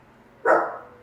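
A small dog gives a single sharp bark close by, with no other sounds around it.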